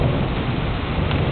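Continuous rumbling thunder after a storm, a dense, steady low roar with rain-like hiss layered over it, loud and unbroken throughout with no talking.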